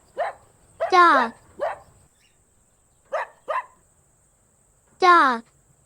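A dog barks in short, sharp yaps, some single and some in quick pairs, with gaps of quiet between them. It is close and clear against a faint low background.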